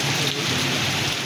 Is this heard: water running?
no